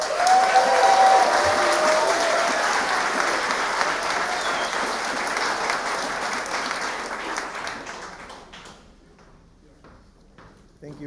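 A congregation at a synagogue service applauds a congressman's introduction, a full, steady burst of clapping that fades over the last few seconds into near quiet with faint stray sounds.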